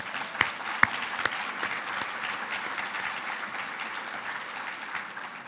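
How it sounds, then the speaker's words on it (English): Audience applause at a sustainability summit in Central Ohio, honouring the event team. Steady, dense clapping from a seated crowd holds at an even level throughout, with a few sharper individual claps standing out near the start. "Let's give all of them a round of applause."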